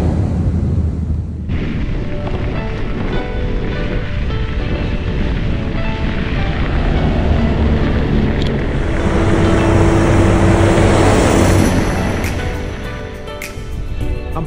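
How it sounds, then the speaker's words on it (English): A car passes on a rural road in the Australian bush, a broad rising and falling rush over steady wind noise that swells near the middle and fades toward the end. "Car."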